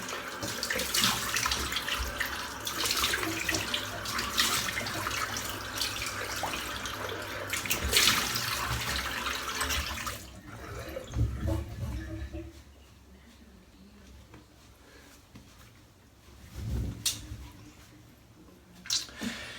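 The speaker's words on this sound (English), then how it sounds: "Just rinse that off now." Tap water runs steadily into a sink during rinsing after a shave, close and fairly loud for about ten seconds, then drops away to quieter drips and a few splashes.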